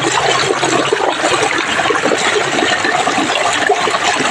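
Water gushes from a burst elbow joint on a water supply pipe, making a steady, loud, hissing rush of spray without pause and with no voices.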